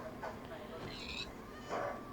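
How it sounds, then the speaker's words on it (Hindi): Cats in Minecraft Pocket Edition give a few faint, short meows spread across a quiet game soundtrack. "बेचारी ये बिल्लियाँ डर रही।"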